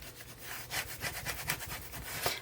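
Scissors or a trimmer cut along the paper edge of a handmade junk journal, a close, soft rasping run of repeated short strokes with steady rhythm and no talking.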